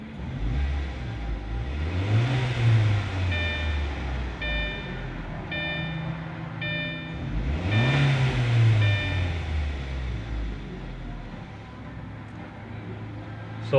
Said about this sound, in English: I'm going to rev the engine real quick.